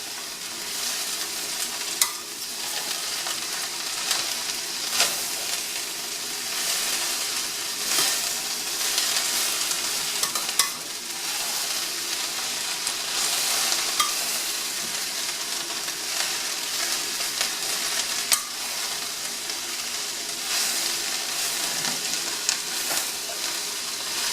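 Cabbage, onions and oil frying in a pan for Indian-style cabbage, with a steady bright sizzle broken by occasional scrapes and clicks of stirring throughout; no one speaks.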